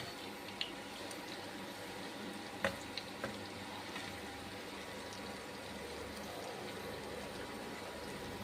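Bitter gourd chips frying in oil, a steady soft sizzle and bubble running throughout with a few faint clinks of a utensil near the middle.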